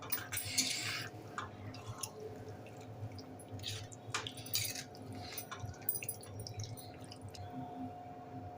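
Masala paste thinned with water and stirred in a pan for a Malvani dried mori fish dish, giving soft wet squishing and dripping sounds, quiet and close, with no talk.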